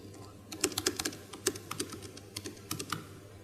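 Typing on a computer keyboard used to enter a musical melody in a live conference demo, with a brisk, irregular run of close, crisp key clicks over a low hum.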